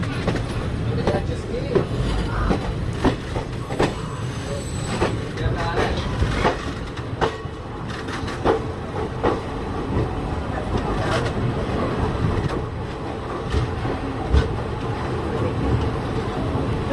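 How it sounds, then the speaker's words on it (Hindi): A Kathgodam–Moradabad passenger train, running via Kashipur, pulls into terminal platform 7 at Moradabad railway station with a continuous rumble and rhythmic clatter throughout, while voices murmur nearby. "तो प्लेटफॉर्म 7 पर हमारी ट्रेन जा रही है, जो कि एक टर्मिनल प्लेटफॉर्म है।"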